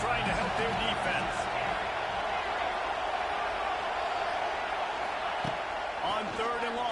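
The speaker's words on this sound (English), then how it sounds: "Listen to this crowd just shaking the girders of this place, trying to help their defense." A packed stadium crowd at an Oklahoma vs Ole Miss college football game roars steadily and loudly to rattle the offense, a dense continuous wall of noise with occasional thumps.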